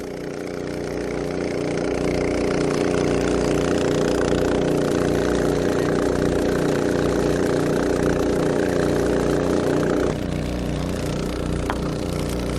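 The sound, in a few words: two engine-driven water pumps filling an AquaDam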